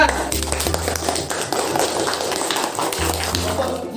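Students in an Indonesian classroom lesson clap in a busy run of sharp, close hand claps and taps, fairly loud and ragged, with faint room noise underneath.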